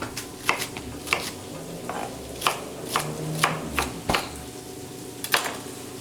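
A knife chopping fennel on a cutting board for heirloom tomato soup, a series of crisp, irregular knife strikes close by with a faint kitchen hum beneath.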